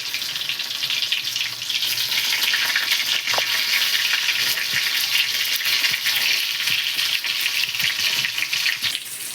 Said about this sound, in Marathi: आता आपण याच्यामध्ये असे कारले सोडून घेतो